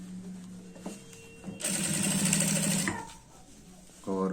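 An electric sewing machine stitches a pant waistband in a loud burst of rapid whirring in the middle, with quieter motor hum around it and a person speaking before and after.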